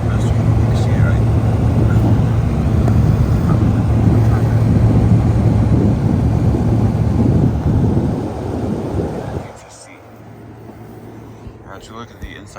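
A Frigidaire 8000 BTU window heat pump with a GMCC compressor runs close by, its fan motor and compressor giving a loud, steady low rumble and whoosh. The noise drops off sharply near the end, and a voice speaks faintly afterward.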